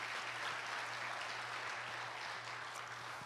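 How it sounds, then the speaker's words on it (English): A church congregation claps steadily and evenly for about three seconds, at moderate distance and without any voices over it, with a low electrical hum underneath. "Yeah, we can clap for that."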